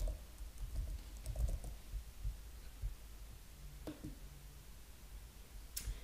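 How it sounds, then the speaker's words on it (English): Faint keyboard keys tap out a short burst of typing on a computer, with scattered soft clicks that fade into quiet room hum. "if you are searching the ALISS index and you type in smoking"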